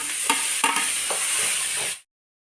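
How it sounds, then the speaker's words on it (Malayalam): Onion, green chili, garlic and tomato sautéing in a pan for mutton curry: a brief bright sizzle with a few stirring scrapes, cut off abruptly after two seconds. "അത് തക്കാളി കൂടെ ചേർത്ത് ഇതെല്ലാം കൂടെ ഒന്നുകൂടെ വഴറ്റിയെടുക്കാം."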